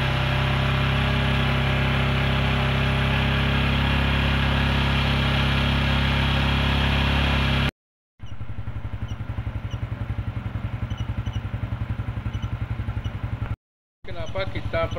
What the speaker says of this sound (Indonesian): Kemudian RPM motor saya tambah.